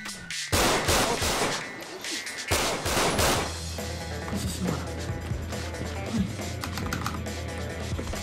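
Rapid bursts of gunfire at police in GTA roleplay crack out in the opening seconds, followed by a steady low engine-like drone with scattered clicks and clatter.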